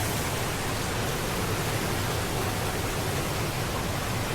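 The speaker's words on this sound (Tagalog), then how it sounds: "Grabe ang tubig, malakas." Strong, steady rushing water pours continuously at a cold spring resort in Casiguran, Sorsogon, a dense broadband roar with no pauses and no voices.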